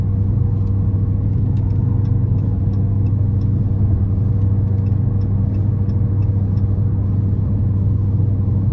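2020 Dodge Charger R/T Plus Blacktop Package cruising at 70 mph, a steady low engine hum and road rumble inside the cabin, constant and even throughout with faint ticks above, no talking.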